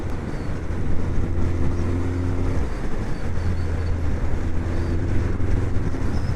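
Suzuki GSX 1400 motorcycle engine pulling in sixth gear as the throttle opens, a steady low droning rumble with wind buffeting, dipping briefly mid-way then resuming.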